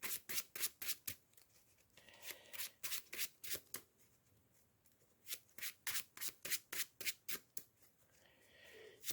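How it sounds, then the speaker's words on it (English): Playing cards from a Marvel Champions deck are riffle-shuffled by hand, giving a quick series of crisp, rhythmic ripping bursts in close, separate runs with short pauses between them. "I'm going to shuffle one of the Spider-Ham cards, which is going to be this one, back into my deck"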